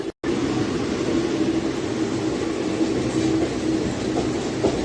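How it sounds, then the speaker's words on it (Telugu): A passenger train running from Ahmedabad to Mumbai Central, heard from on board as a steady, loud rumble of wheels on track with faint rhythmic clatter throughout. "ఈ ట్రైన్ ఇప్పుడు 300 kilometers డిస్టెన్స్ కంప్లీట్ చేసి వల్సాడ్ రైల్వే స్టేషన్కి చేరుకుంది."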